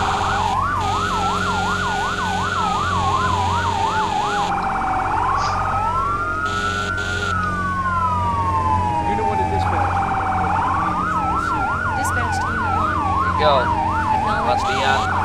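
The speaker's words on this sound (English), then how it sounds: "I think we can go ahead and kill the siren" A loud fire truck siren in the video game Firefighting Simulator alternates between a fast yelp and slow rising-and-falling wails, continuous and close, over a low engine rumble.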